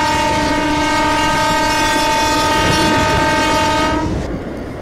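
Sustained horn of an EMU Medha local train in a train simulator game, a loud, steady multi-tone blast lasting about four seconds over rolling track noise, then cutting off.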